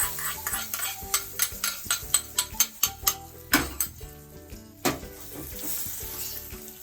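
A series of rhythmic metallic taps and scrapes over a soft sizzle, as a hot ghee tempering is added to a pumpkin and lentil dish, close by.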